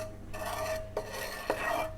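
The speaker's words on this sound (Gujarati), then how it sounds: "ગેસની ફ્લેમ લો રાખીને આ રીતે મીઠું શેકી લઈશું" Salt being dry-roasted in a pan over a low gas flame, stirred with a spoon, giving a soft continuous scraping rasp with two brief clinks of utensil on metal, close and without talk.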